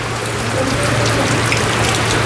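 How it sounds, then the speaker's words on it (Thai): Rain falls steadily at a house, a loud, even wash of drops that continues unbroken with no talk over it. "ฝนก็ตกลงมาอีก"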